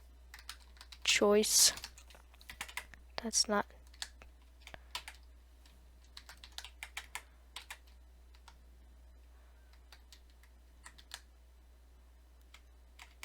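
Brisk bursts of computer keyboard typing while coding in Python, close and clicky, with a louder flurry early on and lighter scattered keystrokes after; a voice speaks briefly.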